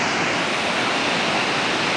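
The Manthokha waterfall near Skardu produces a loud, continuous broadband roar of rushing water. It stays steady and unbroken throughout, with nothing else standing out.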